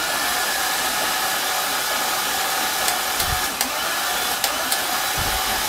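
An LQ4 V8 engine mounted on a hoist is cranked over by the starter, giving a steady, loud whirring drone throughout with a few faint metallic clicks near the end.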